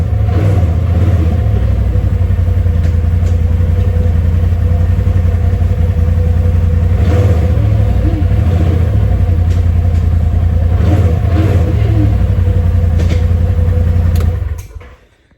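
Polaris RZR Pro XP side-by-side engine running steadily and loudly nearby, with small rises in revs as the gears are shifted, continuous for about fourteen seconds before cutting off abruptly.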